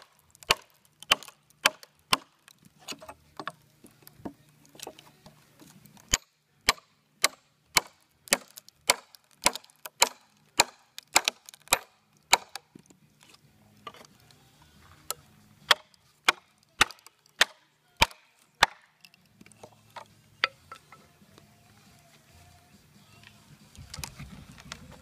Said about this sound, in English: just splitting the wood, everything, the sound that it makes